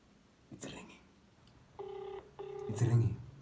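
Ringback tone on an outgoing phone call, two long evenly spaced electronic ring pulses heard through the handset, with a voice and some handling noise around them.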